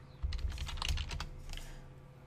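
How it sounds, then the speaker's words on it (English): A rapid run of close, crisp keystrokes on a computer keyboard as a web address is typed into a browser, clustered clicks that fade into quieter taps. "All I need to do now is simply type in teams.microsoft.com"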